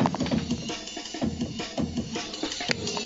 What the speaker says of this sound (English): Then I've got an 8-bit Amen running through the compressor down here off the desk so it sounds like this.